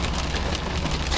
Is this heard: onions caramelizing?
no